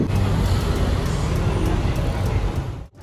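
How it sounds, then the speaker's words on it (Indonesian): A double-decker luxury bus pulls in amid congested traffic, a steady loud engine and road rumble filling the scene before it drops away abruptly near the end. "akhirnya nih bisnya datang juga nih, double decker"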